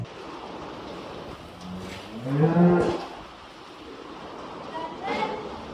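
A cow moos once, loud and fairly close, over a background of heavy rain and outdoor noise.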